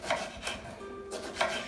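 A knife cuts through eggplant on a board in a home kitchen, giving soft rasping slices spaced at a steady rhythm, close and quiet.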